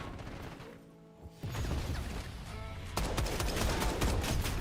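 Dense, continuous gunfire from Call of Duty, loud rapid automatic bursts that grow heavier after a brief lull, with no talking.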